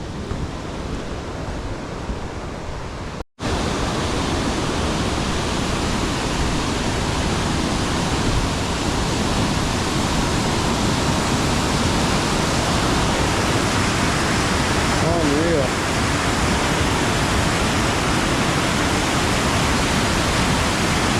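Rattle Falls pours with heavy flow, a dense, loud, steady roar of falling water that keeps up without a break after a short cut near the start.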